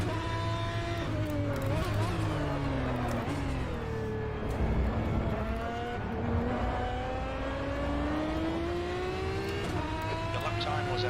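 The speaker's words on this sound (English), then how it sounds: "The engine sounds really good." Ferrari GT1 race car engine in the Automobilista 1 racing game at Imola, droning loud and steady throughout with rising and falling revs as it accelerates and shifts, under continuous commentary talk.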